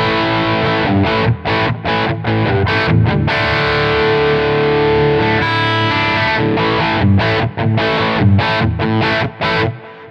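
A distorted electric guitar through an amp modeler plays a crunchy rhythm part, chords chopped by short pauses, with a sustained ringing passage in the middle, no voices.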